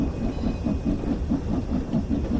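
Steam locomotive hauling about five coaches in Train Sim World 2, pulling away with cylinder cocks closed, steady rhythmic chuffing beats repeating evenly and close, no voices.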